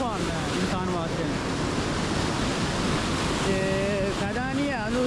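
Fast-flowing water rushes through a full canal with a steady, dense roar that fills the whole stretch, and faint voices or calls rise now and then above the torrent.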